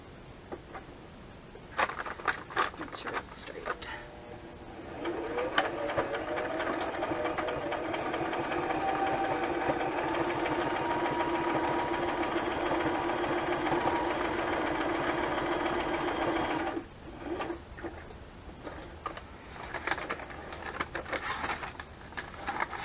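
Sewing machine running a straight stitch through journal signatures, a steady mechanical whir lasting about twelve seconds, with scattered handling clicks before and after.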